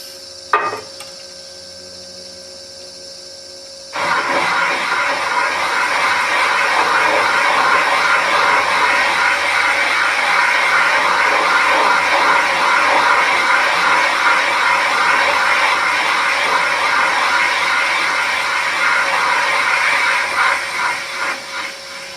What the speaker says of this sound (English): So now we're talking boring bar.